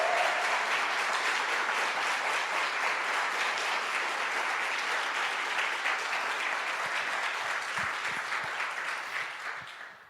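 Dense congregational applause during a church sermon, continuous and fairly loud for about ten seconds before thinning out and fading at the end, with no talk over it.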